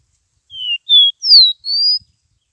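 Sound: caboclinho seedeater bird singing

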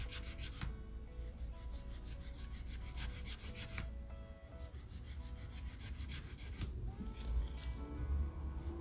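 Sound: nail file filing the sides of a fiberglass gel nail

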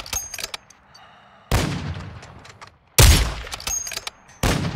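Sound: incendiary rounds gunfire in a video game

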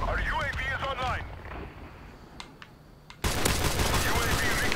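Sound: gunfire in Call of Duty Modern Warfare Remastered video game

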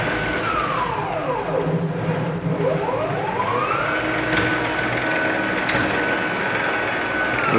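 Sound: sailmaking machine running as sail cloth is fed through

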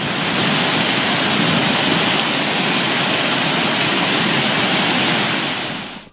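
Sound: running water

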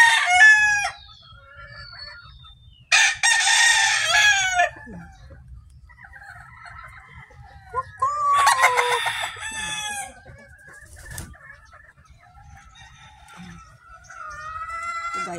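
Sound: chickens clucking while laying eggs

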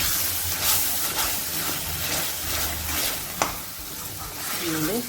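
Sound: frying amla (gooseberry) rice mixture in a pan

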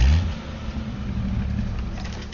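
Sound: car driving in a video game

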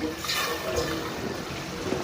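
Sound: water being poured into a cooking pot

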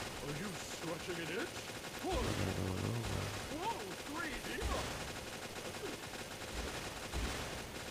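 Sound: gunfire in video game Metal Slug Awakening

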